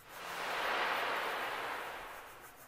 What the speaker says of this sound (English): And now I'm starting to burnish it.